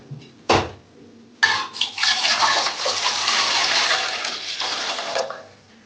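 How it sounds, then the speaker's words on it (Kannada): Water poured from a height into a metal cooking pot, opening with a couple of sharp clanks before a steady, splashing gush that lasts several seconds and then cuts off. "ಈಗ ಒಂದು ಪಾತ್ರೆಗೆ ನೀರು ಹಾಕೊಳ್ತಾ ಇದ್ದೀನಿ"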